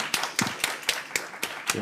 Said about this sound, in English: If anyone can give a round of applause to Virgil for your time.